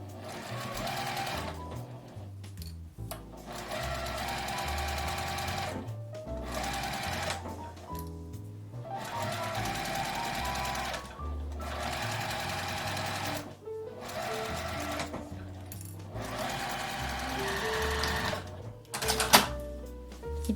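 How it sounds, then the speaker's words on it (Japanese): A sewing machine stitches a chopstick case seam with about a 5 mm allowance, running in steady bursts of rapid needle clatter with short pauses between passes, close and clear. "5ミリくらいの縫い代で縫います。"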